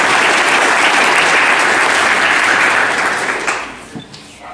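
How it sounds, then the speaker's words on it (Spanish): Loud, dense audience applause at a concert by the Veracruz State Symphonic Band, a sustained roar of many hands that tapers off over the final second. "Les pido que por favor les demos un fuerte aplauso a todos ellos"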